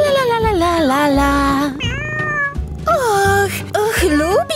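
A cat meows repeatedly in a lively children's playhouse scene, several drawn-out, pitch-bending meows in quick succession, loud and close, with cheerful play sounds around it.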